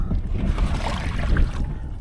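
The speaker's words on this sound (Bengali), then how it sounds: "আমরা কোষার মধ্যে কোষা চালাইতেছি, ছোট নৌকা যাকে বলে।" A small boat is rowed through a wetland, with gentle water splashes and sloshing close by over a faint, breezy background.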